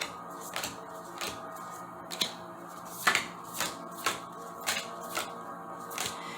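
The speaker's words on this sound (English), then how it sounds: "Yeah, I like shuffling live." An oracle card deck, the Shamanic Medicine Oracle, is shuffled by hand in a regular run of soft riffling snaps, close and fairly quiet, about one every half second.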